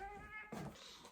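A house cat meows, a short harmonic call followed by a brighter, rising second meow, close and fairly quiet with no talking.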